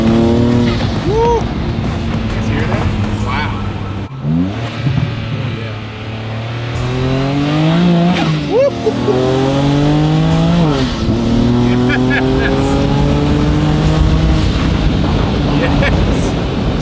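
A Ferrari Enzo engine revs hard and accelerates, loud and near, with rising and falling howling pitch sweeps and excited voices cheering over it.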